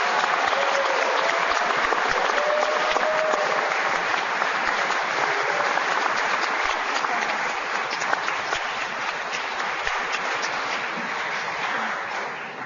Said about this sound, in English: Let's just give all of them a round of applause for a great success